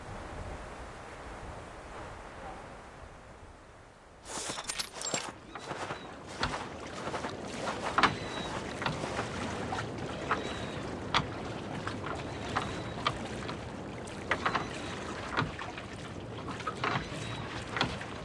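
A boat travels across the water toward a port on the Ross Sea in the video game Reverse: 1999. After a quiet start, a continuous rushing wash of water and motion sets in, with scattered splashy knocks and no talk.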